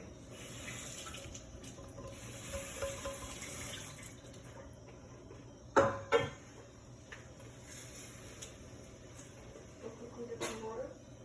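Water runs steadily from a kitchen tap while egg curry is being cooked, a continuous moderate hiss with a short splashy burst partway through, under a low background hum.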